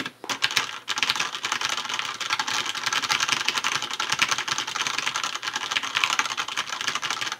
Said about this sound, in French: On rappelle que c'est du switch Cherry MX Red, donc pas voulu pour être super bruyant.